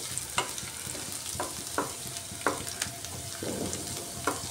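Ginger and garlic frying in a pan for a lentil dish, a low steady sizzle under repeated crisp scrapes of the spoon spaced across the stretch, fairly quiet and close, no speech.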